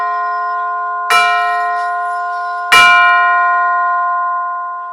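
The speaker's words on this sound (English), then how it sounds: "It's a rubber hammer, and it's the perfect mallet to use for chimes." Two tubular chimes struck at the top with a rubber hammer, each giving a bright metallic clang with a long ringing sustain that slowly fades, played alone.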